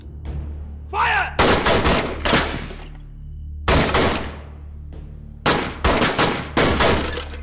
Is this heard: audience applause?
no